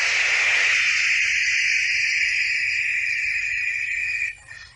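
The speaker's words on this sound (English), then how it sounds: "For those of you who don't know, white noise is wide spectrum sound." Broadband white noise, a steady, loud hiss spread evenly across the range, holding constant before dropping off abruptly near the end.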